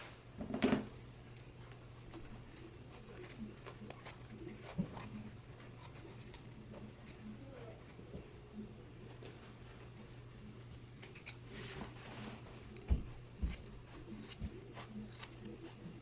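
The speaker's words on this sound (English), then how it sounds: "you want to go ahead and trim your seam." Scissors snip along the sewn waistband seam of a skirt made from Simplicity pattern 8994, giving sparse quiet close cuts and small rustles over a low steady hum.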